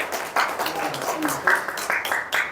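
Brief clapping from a church congregation during a Wednesday worship service, a few uneven bursts of hand claps at moderate distance.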